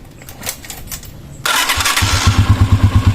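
A motorcycle fitted with a new OD gel-type battery cranks with a starter whirr, then fires up and settles into a loud, steady, pulsing idle close by.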